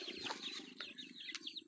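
Chickens cluck softly in a farmyard while being fed, several birds making short overlapping calls at a distance, faint against light background noise.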